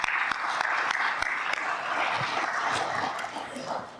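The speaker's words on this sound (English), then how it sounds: "So let's give them a round of applause." A civic audience at a city address applauds, steady clapping filling the room at moderate volume, with a few sharper claps standing out and the sound easing slightly toward the end.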